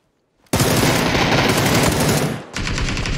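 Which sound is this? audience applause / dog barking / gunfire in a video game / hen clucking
gunfire in a video game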